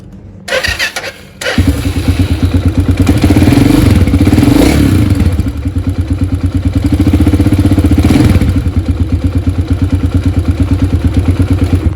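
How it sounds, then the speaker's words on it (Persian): A Honda motorcycle engine, just after a valve clearance adjustment, cranks, catches and starts, then settles into a loud, steady, chugging idle up close. "خب حالا یه استارت هم روش میزنیم که صداشو بشنوید"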